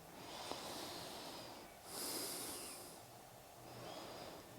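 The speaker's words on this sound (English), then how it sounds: "just take 2 more breaths here" Slow, deep breaths during a yoga stretch, each long airy inhale and exhale swelling and fading in a steady rhythm, close and soft with no talking.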